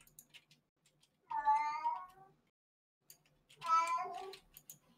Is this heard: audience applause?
no